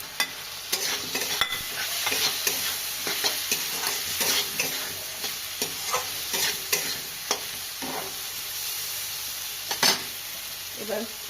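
Potatoes frying with spices in a pan, a continuous sizzle under repeated scraping and clacking strokes of a spatula stirring, close and moderately loud.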